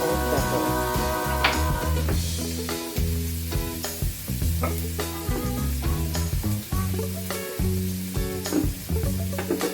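Onions and garlic frying in a pan for chicken pisa with rice, a steady close sizzle broken by frequent clicks and scrapes of stirring. A musical backing runs underneath and no one speaks.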